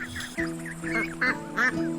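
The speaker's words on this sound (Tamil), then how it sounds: "சில வாத்துகள் போய்கிட்டு இருந்துச்சு" A few ducks quack in short, nasal bursts, close and clear, with the calls coming in quick irregular pairs over about two seconds.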